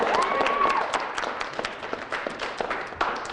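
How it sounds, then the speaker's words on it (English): An audience at the Melinda Awards ceremony applauds in a scattered, moderately loud burst of clapping, with a voice speaking briefly at the start. "All right, clap, ladies and gentlemen."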